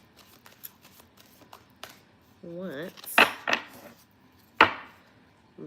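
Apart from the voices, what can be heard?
shuffling Witch's Oracle cards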